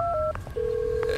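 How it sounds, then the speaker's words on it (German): Telephone keypad dialing tones in a Roblox video game, a few short beeps followed by a longer steady tone, clear and close with no voices. "Das Telefon."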